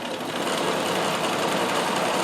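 A Riccar 570 stretch-stitch sewing machine with cams runs continuously at the maximum speed of its slow setting, a close, steady, dense mechanical hum and clatter with no voices.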